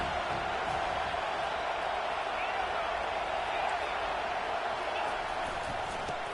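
Steady broadband roar of a stadium crowd in College Football 25 during an Auburn versus Penn State game, a constant dense wash of many voices holding level throughout without distinct cheers or breaks.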